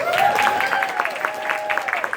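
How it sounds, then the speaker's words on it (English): Brief applause with scattered claps, moderately loud, with a voice or tonal sound gliding over it. "round of applause for our guest of honor"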